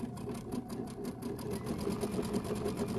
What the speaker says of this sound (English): And I'm just gonna sew right on that line.